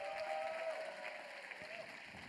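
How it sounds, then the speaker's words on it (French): Applause from a church congregation welcoming a newborn during a Sunday service, a steady wash of moderate clapping at middle distance, with a faint sustained tone running underneath. "On peut l'applaudir bien fort."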